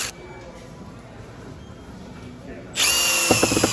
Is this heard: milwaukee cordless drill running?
yes